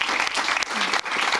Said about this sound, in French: Comment on est applaudis